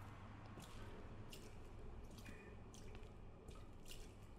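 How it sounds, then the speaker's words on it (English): Water drips from an open women's toilet in the VR video game Resident Evil 2, a few faint, irregular drips and splashes over a quiet hissing ambience. "Women's toilet is open and there's water coming from it."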